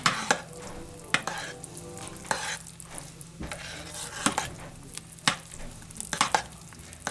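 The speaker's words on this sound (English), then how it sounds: "I'm going to stir in my super fats and wait for them to melt" A spoon or spatula stirs melting fats into a soap mixture in a pot, with soft scraping and a series of sharp clinks against the container, close and fairly quiet, with no talking.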